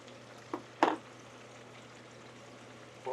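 Pork-rind-crumb-coated meats deep frying in hot oil while a steak cooks nearby: a faint, steady bubbling hiss over a low hum, broken by a couple of brief clinks.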